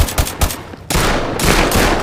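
Loud rapid bursts of gunfire in the VR shooter Firezone on Meta Quest 2, with a few sharp single shots followed by sustained automatic fire.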